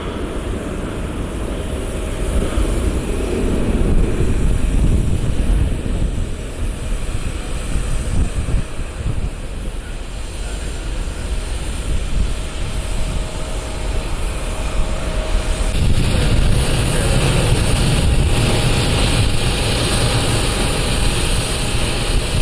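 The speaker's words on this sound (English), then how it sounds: "Well, that's a nice aircraft." Aircraft at Columbus airport, a loud, sustained jet engine roar and rumble heard outdoors, building and holding, with a thinner whine rising in the later part.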